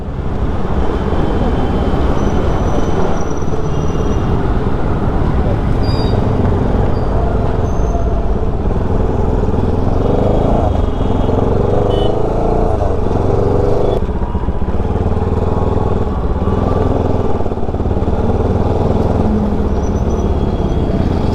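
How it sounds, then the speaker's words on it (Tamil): A Bajaj motorcycle with a small engine noise rides along a busy road, a loud constant engine and wind roar blended with surrounding traffic for the whole stretch. "நம்ம வண்டியில் வந்து சின்ன இன்ஜின் நாய்ஸ் வருது"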